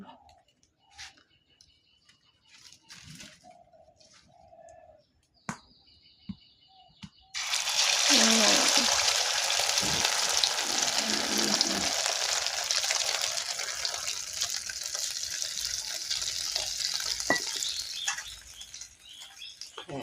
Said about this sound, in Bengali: তেলটা এখনই গরম হয়েছে, ডিমটা ছেড়ে দিবেন।